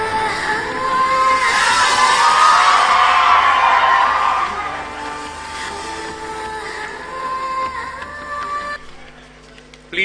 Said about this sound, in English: Please do not hoot and whistle, my friends